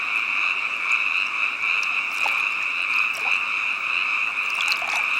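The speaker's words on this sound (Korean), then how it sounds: "참개구리도 짝을 찾으러 나왔다가 눈 나쁘고 우악스러운 무당개구리에게 잡히고 만다" Korean fire-bellied toads and black-spotted pond frogs croak at night in a dense, continuous chorus, a loud buzzing trill from many animals with scattered sharper calls over it.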